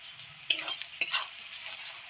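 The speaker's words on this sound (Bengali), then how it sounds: "দিয়ে আবারও একটু খুব সুন্দর করে ভেজে নিচ্ছি" Onions frying in a pan with crushed whole spices (black cardamom, cinnamon, green cardamom) give a soft sizzle, punctuated by two sharp scraping stirs of a spatula against the pan, close by and without speech.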